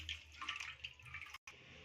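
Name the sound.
thick milk being poured into a pan for payasam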